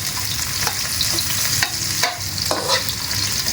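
Garlic sizzling and frying in a pan for a catfish dish, a steady hiss with occasional scraping stirs of a utensil, close and continuous with no voices.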